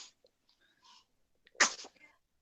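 A single sharp sneeze bursts out after a few soft breaths and faint rustles, close and fairly quiet overall.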